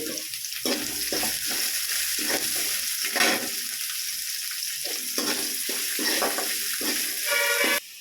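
One big chopped onion dropped into hot oil with crushed garlic for a taro and mango curry, a loud, continuous crackling sizzle that runs unbroken throughout with occasional brief stirring noises.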